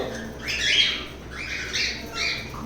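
Caged birds squawking excitedly as they are fed, three loud harsh calls in quick succession, close and clear.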